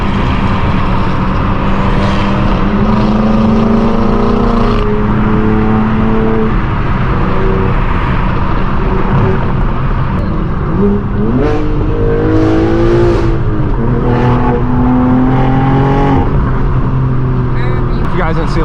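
A straight-piped BMW M4 G82 with loud exhaust accelerates, its engine droning and rising in pitch through several revving pulls over continuous road noise, with a voice talking over it.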